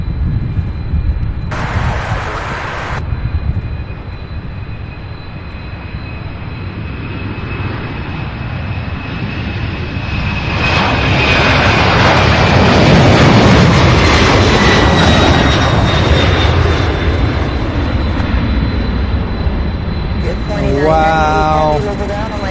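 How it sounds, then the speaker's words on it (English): Boeing 747 jet taxiing at Louisville airport, a steady broad engine roar that swells louder midway and holds, with a brief high whine near the end. "There's also a Boeing 747 on the radar now. It's taxiing over and heading to Anchorage, Alaska."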